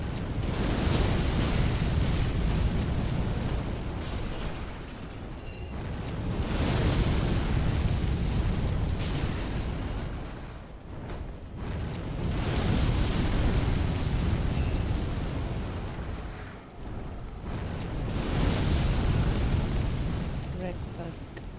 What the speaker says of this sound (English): the dragon's breath of fire gets you